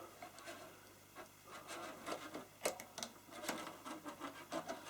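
A guitar string is slid through the saddle of a Washburn 600T with a Floyd Rose bridge, giving faint, close scraping and rubbing sounds in short irregular bursts.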